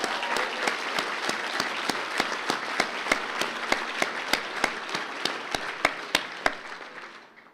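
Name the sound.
audience applause for basketball champions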